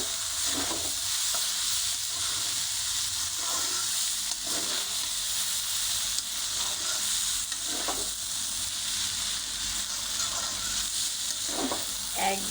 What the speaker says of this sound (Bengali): ডালটা দেখেন কীভাবে ভেজে নিচ্ছে